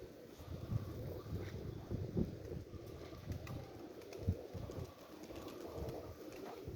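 Pigeons coo softly amid steady outdoor wind noise, low murmuring calls repeating at a distance with no one talking.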